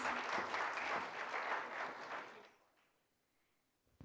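An audience at a corporate roadshow in Noida gives a round of applause, a crowd clapping that stays full for about two seconds, then tapers off into near silence.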